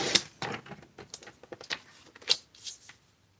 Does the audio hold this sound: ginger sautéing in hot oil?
no